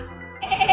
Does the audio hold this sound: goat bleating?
yes